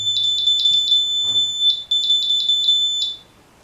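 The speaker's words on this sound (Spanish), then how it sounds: "un buzzer o zumbador" A buzzer on a homemade continuity tester, built with a 9-volt battery and an LED, sounds in quick runs of sharp, high beeps. Two bursts are split by a short gap, then a final single beep, all clear and close.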